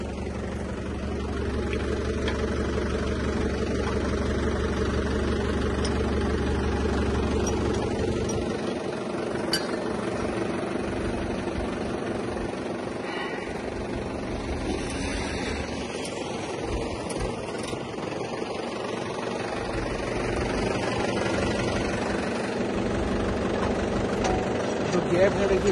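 A Mahindra tractor engine idles with a steady low drone, heaviest in the first third, while someone talks over it throughout.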